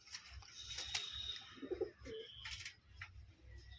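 A pigeon coos softly in a short burst of low throaty notes, with faint chirps and background rustle around it.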